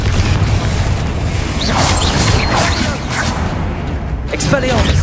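A Confringo fire spell blast booms in Hogwarts Legacy, a few loud whooshing impacts and crashes layered over constant battle noise, with a voice speaking between the hits.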